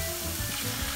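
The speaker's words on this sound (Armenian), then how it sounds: "Այժմ մի թեթև տապակվելուց հետո բանջարեղենների ավելացնենք միսը" Meat drops into vegetables already frying in a pan, giving a loud, dense, steady sizzle that fills the whole moment without a break.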